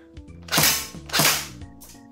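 A Krytac P90 airsoft electric gun firing tracer BBs, two sharp, close snapping shots about half a second apart, each with a brief mechanical whir around it.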